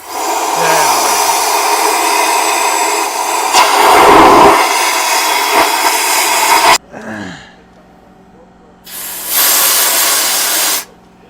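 Compressed air blown into diesel engine cylinders to clear out fuel, a loud close hissing blast lasting several seconds, then a short pause, a brief rattle and a second shorter burst of air.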